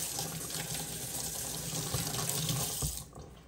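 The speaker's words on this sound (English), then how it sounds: "Let me wash my hands." Steady running tap water at a kitchen sink while hands are washed, a continuous close hiss and splash that cuts off near the end.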